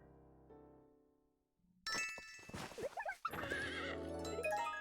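A donkey in the video game Miitopia brays in a loud, wavering burst that follows a stretch of soft game music, with cartoonish whinny-like calls continuing to the end.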